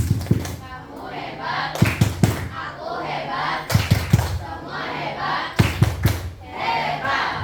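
A class performs the "tepuk hebat" clapping chant, with loud group claps and shouted chant syllables recurring in a rhythmic pattern about every two seconds.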